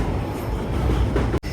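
A passenger train, the Kacheguda to Nagercoil express 16353, runs into Kurnool City station with a steady low rumble and rolling wheel noise, heard from inside. A brief dip comes near the end.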